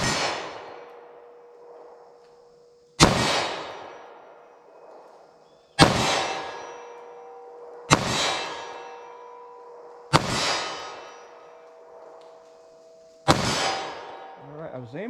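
Five sharp, loud pistol shots from a Taurus G2C firing .38 Special rounds on a range, spaced a few seconds apart. Each one rings out with a metallic clang and then decays.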